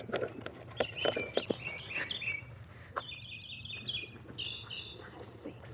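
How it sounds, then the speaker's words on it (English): Small birds chirp and trill in a spring garden, several thin whistled phrases repeating at a moderate distance, with scattered knocks and handling noises nearby and no talking. "Those birds are singing so pretty."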